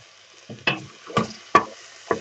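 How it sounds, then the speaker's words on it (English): A spoon stirs a pot of simmering vegetables for tomato soup, giving four or five separate scraping knocks spaced about half a second apart, close and fairly quiet, with a soft bubbling hiss beneath and no talking. "Just going to give it a quick stir."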